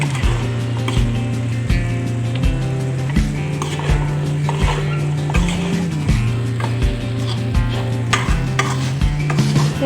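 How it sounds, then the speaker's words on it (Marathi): Chopped okra (bhindi) being stirred into masala in a pan for a quick bhindi sabzi, giving steady scraping stirs with regular strokes about every second over a constant sizzle and a low background hum, with no talking. "ही भेंडी मी 10 ते 15 मिनिट सतत फिरवत राहणार आहे"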